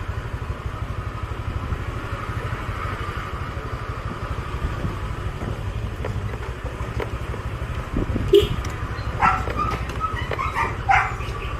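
Panda the dog barks in a few short bursts late in the clip, heard over a steady low engine idle, likely a motorcycle, running throughout.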